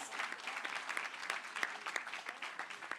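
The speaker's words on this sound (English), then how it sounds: "Let's give them another round of applause." Audience applause fills the hall after a performance at the opening session of a Labour and Employment Ministers' Meeting in Fancourt, steady and fairly close with some sharper individual claps standing out.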